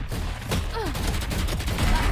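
Rapid gunfire bursts from the Valorant shooter game crackle through the full clip, dense and loud, mixed with faint game effects.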